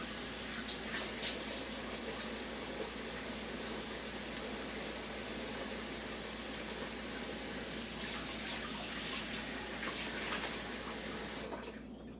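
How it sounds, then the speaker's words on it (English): Pot of water slowly coming to a boil on a stove, a steady close bubbling hiss and gurgle that runs evenly throughout before dropping off at the very end. "a pot boiling water, or water just boiling, slowly boiling"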